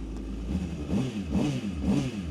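A 2020 Honda CBR600RR motorcycle engine with about 2,000 km on it revving up close, three quick rising throttle blips in a rhythmic sequence over a low idle rumble, no speech.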